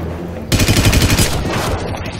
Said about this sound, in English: Kind of neat, this gun, even though it's a machine gun, it doesn't have too much recoil, so it's steady